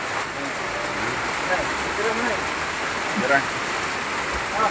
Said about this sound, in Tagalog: Napakalakas yung ulan dito ngayon.